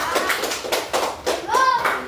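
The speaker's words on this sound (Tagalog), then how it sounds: "Bigyan siya po palakpak." Pupils in a Grade 3 elementary classroom clap for a classmate, a short burst of scattered hand claps close by, with children's voices mixed in.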